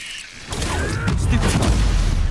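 A Bombarda explosion spell in the video game Hogwarts Legacy, a deep rumbling boom that swells in after half a second and sustains heavy low-end roar with crackling debris to the end, loud and close.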